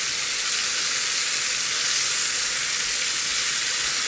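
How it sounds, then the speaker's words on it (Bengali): Chicken marinated in yogurt and peri peri spice sizzles steadily in a pan on a stove, a bright, continuous, close frying hiss with no talk. "তো চিকেনটা এখন ভাজতে চলে আসলাম। এখন সবগুলো দিয়ে দিচ্ছি, অল্প অল্প করে এটা গ্রিল করব।"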